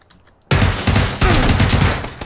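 Gunfire in the video game PUBG erupts suddenly after a quiet start and keeps going as a loud, dense burst of rapid shots close by.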